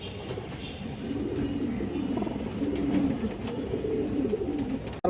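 Pigeons, including a black-tailed hen with a patterned neck, coo steadily in a low, continuous murmur close by, with several birds overlapping and no talk.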